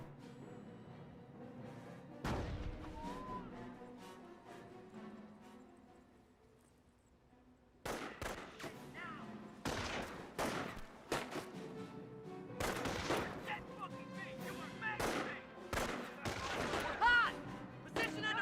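Sniper rifles firing in Company of Heroes, a World War II strategy game, with US and Wehrmacht snipers targeting infantry: repeated sharp loud shots over the constant din of battle, alongside other gunfire and clatter.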